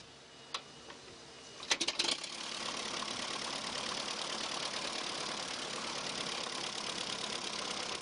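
A tractor engine idles at a steady, low, even pace during a weekend tractor cruise, heard at a moderate distance after a few sharp clicks at the start.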